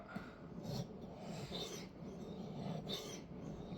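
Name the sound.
sharpening a knife on a whetstone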